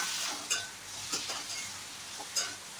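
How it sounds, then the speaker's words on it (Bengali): Banana flower chop mixture being stirred in a wok with a spatula, soft scraping and stirring noises continuing alongside a light sizzle, with a few sharper clinks of utensil against the pan. "যতক্ষণ না মিশ্রণটা কড়াই থেকে ছেড়ে আসছে এভাবে নাড়তে হবে"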